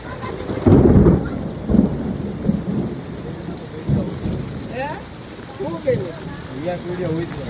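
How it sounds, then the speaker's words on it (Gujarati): Thunder booms and cracks several times during a heavy downpour, deep rolling bursts rising over the steady rain hiss, while someone talks through the later part. "કડાકો થાય હો મિત્રો સાંભળજો"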